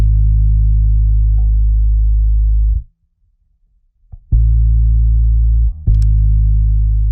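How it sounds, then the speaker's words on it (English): Thick, compressed electric bass root notes with a low-frequency boost hold long and steady, broken by a brief gap, with sharp plucked attacks on each new note. "For the second part is just the root notes played in with my electric bass."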